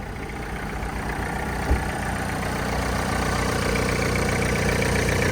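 A used car at a secondhand car market idles steadily up close, a continuous mid-low engine hum with one brief knock near the start and no talk over it.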